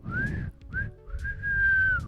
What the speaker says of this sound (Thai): เครื่องเป่าเกิดจากการเป่าปากหรือการผิวปากนี่ครับ